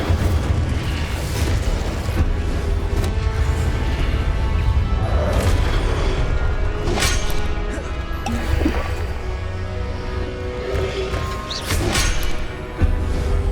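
Magical combat spells in the action game Hogwarts Legacy hit as a steady wash of bursts, crashes and sparkling impacts, with several sharper explosive hits standing out over a dense, continuous din.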